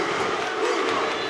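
Arena crowd at an AEW Dynamite wrestling match chanting for the wrestler Rush, a loud, steady wall of massed voices with no clear words.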